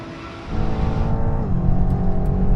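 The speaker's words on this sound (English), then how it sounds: "Now we're going to do the same thing again, rolling race from 50 miles an hour." A Ferrari and another car accelerate hard in a rolling race from 50 mph, a loud close engine roar that climbs in pitch and gains strength throughout.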